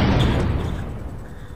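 A single explosion in a video game hits with a loud broadband boom at the start, then rumbles and fades steadily over a second and a half with no talk over it.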